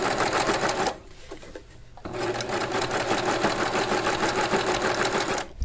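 A serger sewing an overlock flatlock stitch chatters in a fast, steady mechanical rhythm close up, pauses briefly for about a second, then resumes running continuously.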